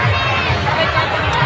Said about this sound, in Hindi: देखिए दोस्तों यहाँ पे एकदम बहुत ज़्यादा भीड़ है